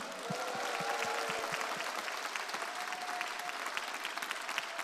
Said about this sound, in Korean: 은혜가 됐으면 소리 지르고 박수 한번 합시다.